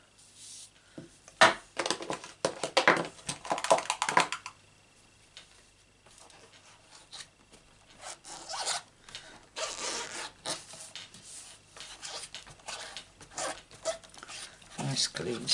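Scissors fussy cutting around a stamped paper image for a handmade birthday card, with close, irregular snipping and rustling of paper, louder at the start and then quieter and sparser.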